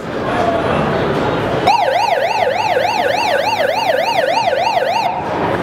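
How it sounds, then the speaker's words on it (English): A siren sound effect played through a Creative Sound BlasterAxx AXX 200 speaker at a CES 2014 presentation: a loud, steady wailing siren that sweeps up and down rhythmically for several seconds, starting abruptly after crowd murmur and cutting off sharply. "So that's a siren."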